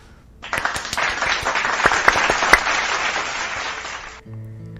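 A short burst of clapping and applause from a small group, starting abruptly, holding steady for a few seconds, then cutting off.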